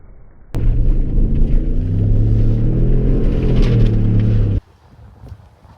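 A 2018 Ford F-150 EcoBoost pickup drives through fire: a loud, steady engine roar with deep rumbling and roaring flames, holding for about four seconds before cutting off abruptly to quiet.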